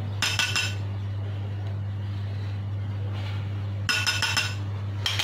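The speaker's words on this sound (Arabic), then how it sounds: "صافي غادي نبقى نخلط حتى تذوب ليا حتى هي" A spoon clinks against a bowl while butter is stirred into a glossy chocolate and cream ganache. Short bursts of scraping clinks come near the start and again near the end over a steady low hum, with no talk.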